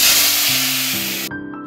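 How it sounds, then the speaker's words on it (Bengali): Rohu fish frying in hot oil in a home kitchen makes a loud, dense sizzle close by that ends abruptly, leaving a faint tonal hum. "এটা একটু গরম গরম ভাজা করে আনবো।"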